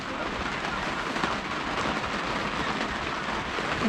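Steady rain falls throughout during a long river journey, a dense, even hiss with no breaks, moderately loud and fairly close, with no distinct drops or thunder standing out.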